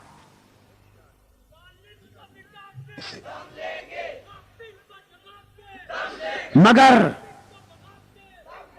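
A large crowd chants slogans together at a gathering with a speaker, the shouting rising in waves and peaking in a loud, close surge near the end, with a voice in between.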